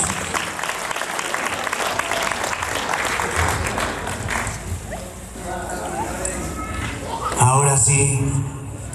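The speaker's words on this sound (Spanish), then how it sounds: "Vengan los aplausos bien fuertes, por favor, para los papás" Wedding guests applauding the parents of the bride and groom, a continuous loud clapping crowd with scattered cheers and a voice rising above it near the end.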